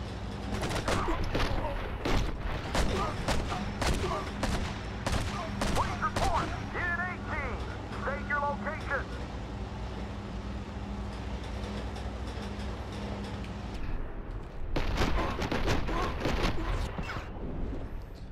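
Repeated heavy shotgun blasts from the video game Enter the Matrix, fired in a rapid, irregular burst over a steady low drone, then a pause with electronic tones and another loud cluster of shots near the end.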